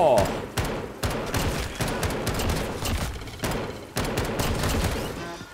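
Rapid bursts of DMR rifle fire in Black Ops 3 custom zombies, a loud sequence of sharp repeated shots with brief pauses between volleys.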